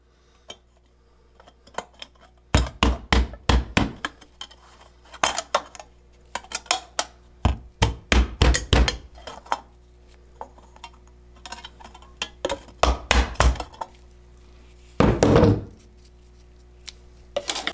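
A nail is hammered into a metal can in sharp bursts of close, loud metallic taps, several quick strikes per group separated by quiet pauses, with a brief scraping rattle near the end.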